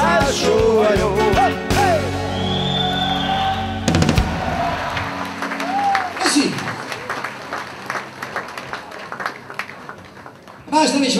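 An audience applauds at a live Hungarian mulatós folk-pop concert, a loud burst of clapping that fades into scattered claps with crowd noise, music briefly present at the start.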